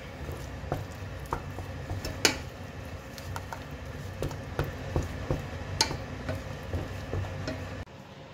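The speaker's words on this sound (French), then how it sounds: "Donc là, je mélange." Utensil stirring a fish terrine mixture in an uncoated pan on a switched-off hob, producing scattered soft scrapes and light clicks at close range, with no talk.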